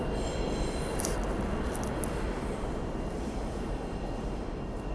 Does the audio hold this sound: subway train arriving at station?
yes